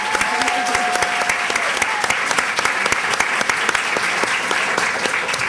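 An audience at an event on women's achievements and challenges breaks into loud, sustained applause, dense clapping that holds steady from start to end.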